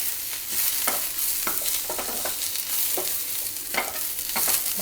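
Vegetables for spring rolls fry softly in a pan, a quiet sizzle under repeated scraping stir strokes in an uneven rhythm.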